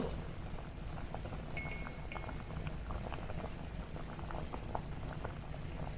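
A pot of milk boils steadily, with dense bubbling and popping close by and no voices.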